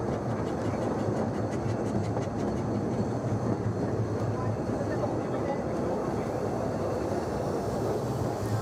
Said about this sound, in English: It isn't long before the train pulls into Statfold Junction.